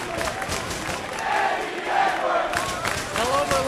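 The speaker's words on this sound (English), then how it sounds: "New York booed Boston, but they love Die Hard Eddie Edwards" Wrestling arena crowd in New York cheering for Die Hard Eddie Edwards, a loud sustained roar of shouts and whistles swelling in waves throughout.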